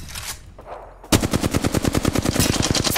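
Automatic gunfire in an Apex Legends ranked match, a sudden sustained burst of rapid evenly spaced shots, loud and close, after a quieter stretch of game ambience.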